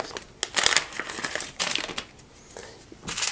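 Plastic packaging of a Ringke clear phone case for a Samsung Galaxy S9 being torn and crinkled open by hand, with several loud bursts of crackling and ripping close up, no talking.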